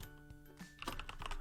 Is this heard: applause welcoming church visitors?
no